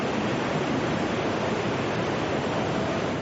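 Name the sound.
tsunami wave pouring over seawall in news footage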